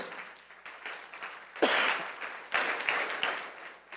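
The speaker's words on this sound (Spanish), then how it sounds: "Dale un fuerte aplauso al Señor Jesús." Church congregation applauding during a sermon, bursts of clapping that swell and fade in waves, moderately distant in a large room.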